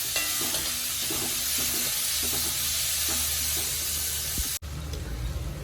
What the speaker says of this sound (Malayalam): കൊച്ചുള്ളിയാണ് ഇതിന് നല്ലത് നന്നായിട്ടൊന്ന് വാടി കിട്ടണം